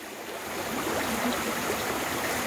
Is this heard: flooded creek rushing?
yes